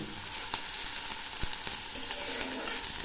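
Chopped onions and cumin seeds frying in hot oil give a steady, dense sizzle, close and fairly quiet, with a few faint stirring taps scattered through it and no voices.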